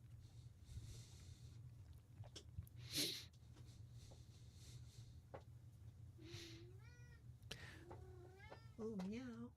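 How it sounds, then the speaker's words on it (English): Cat meowing indoors, several rising and falling meows from about six seconds on, moderately close over a steady low hum, with brief speech earlier in the clip. "there's a cat in the room."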